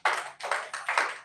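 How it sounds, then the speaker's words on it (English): A group claps together in a nursery-school style, producing three evenly spaced bursts of claps in quick succession, close by and fairly loud. "Nursery school clap."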